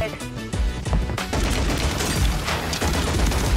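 Pistol shots fire in Call of Duty Warzone, a rapid string of repeated cracks that runs continuously under dense game sound throughout.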